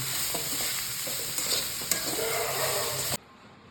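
A spoon stirs grated coconut into goat blood fry in a hot pan, with steady sizzling and a few scraping strokes against the metal, ending abruptly as the heat drops away.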